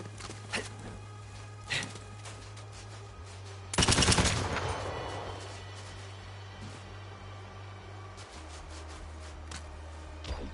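Gunfire in the video game Borderlands 3, a few faint isolated shots followed by one louder burst of rapid fire that fades, over a steady low hum.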